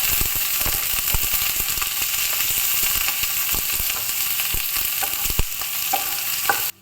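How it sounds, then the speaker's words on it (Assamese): Onions and green chillies sizzle and crackle steadily in hot oil in a pan for a pork curry, with occasional sharp pops and stirring clicks, loud and continuous before cutting off abruptly. "এতিয়া পিঁয়াজ আৰু জলকীয়া ঢালি পেলাই অলপ টাইম ফ্ৰাই কৰিম"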